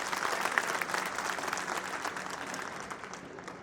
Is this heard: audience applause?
yes